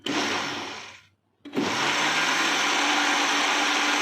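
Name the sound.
blender mixing chocolate marble cake batter with ghee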